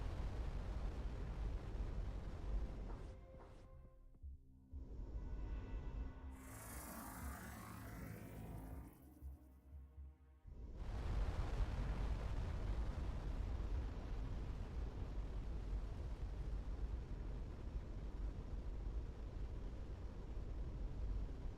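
Deep rumbling explosions in the space game Starcom: Unknown Space, a loud roaring blast that fades into a hollow hum, then a second heavy sustained rumble that continues to the end with no speech.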